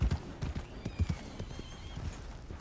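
Hooves of a Morgan bay horse clip-clop in Red Dead Redemption 2, a steady run of close, low thuds with faint game ambience behind them.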